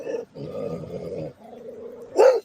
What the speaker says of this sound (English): That's not that is not an aggressive growl.